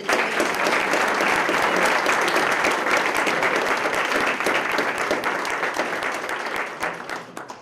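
Audience applause at a police department promotional ceremony: a dense, sustained roll of many hands clapping, loud and even, gradually thinning and fading toward the end.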